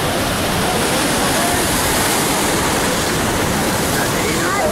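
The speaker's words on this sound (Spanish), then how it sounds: "escenas reales que estamos nosotros viendo en este fuerte, oleaje en el puerto de Malabrigo" Strong waves at a pier in the port of Malabrigo roar as a constant loud wash of broadband noise, with no breaks or distinct crashes standing out.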